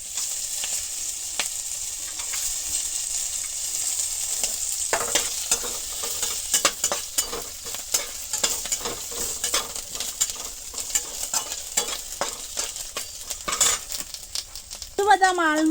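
Cashews, almonds and raisins frying in hot ghee for palm-fruit payesh, a close, steady sizzle broken by frequent clinks and scrapes of a spoon stirring in the pan, with no voices.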